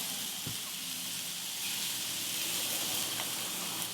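Onions sizzle on a griddle with a steady, bright hiss, close and constant, with a faint tap or two from cooking tools and no talking.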